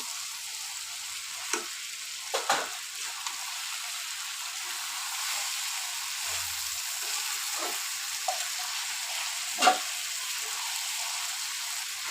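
Fish heads fry in oil with green chili, garlic, onion and black cumin for an ash gourd dish, giving a steady close sizzle broken by a few sharp clicks and scrapes of stirring, with no talking.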